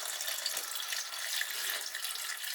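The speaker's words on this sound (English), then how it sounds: "what I'm doing is I'm topping it up with hot water" Hot water pours steadily into a pot of pork and pineapple stew, a soft continuous splashing stream that stays even and fairly quiet throughout.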